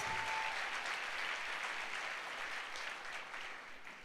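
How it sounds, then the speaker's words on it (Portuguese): Congregation at a church gathering breaks into steady, dense applause, loud at first and gradually fading over a few seconds, with no voices standing out. "Pode dar um aplauso a Jesus."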